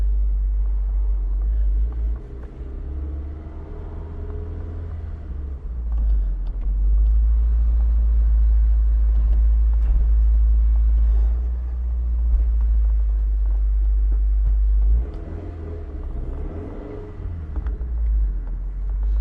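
A 2003 Toyota MR2 Spyder TRD with a 5-speed manual drives along, its engine a steady low rumble throughout, easing and swelling with throttle changes and carrying heavy low-end road and wind noise.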